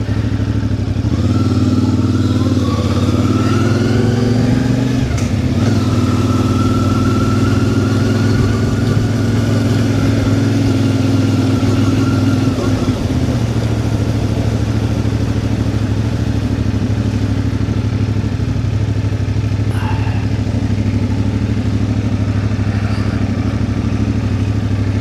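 A CFMOTO 450MT motorcycle rides steadily across a bridge on a New Zealand mountain trip, its mid-pitched engine droning loud and continuous with shifting revs and some clatter, and no talking.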